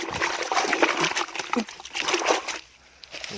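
Water splashes and trickles as hands are washed outdoors, with close, steady sloshing and dribbling that stops near the end.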